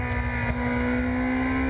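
Ferrari 458 Italia V8 engine droning steadily from onboard during a Le Mans 24 Hours lap, a loud continuous tone through a double left corner, with no voices.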